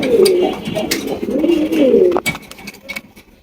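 King pigeons coo close by in soft, throaty, rolling phrases, one after another, with a few faint chirps in the background.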